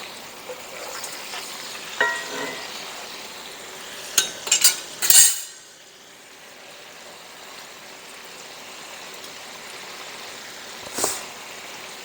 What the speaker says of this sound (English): We're going to flip our burgers one more time and add the cheese to this side.